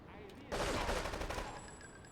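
A burst of rapid gunfire rattles in Grand Theft Auto III on PS2, a dense volley lasting about a second, fairly close and fading into a quiet tail.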